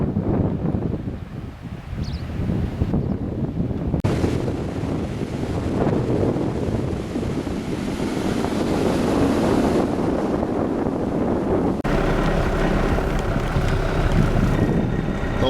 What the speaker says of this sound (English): we just walk over a sand dune here. And we're on the beach.